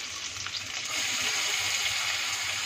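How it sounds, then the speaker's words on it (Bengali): Cashews, raisins and almonds fry in two spoons of hot ghee over medium heat for prawn pulao, a steady close hiss that grows slightly louder and denser partway through, with no talking. "ভেজে তুলে নেব।"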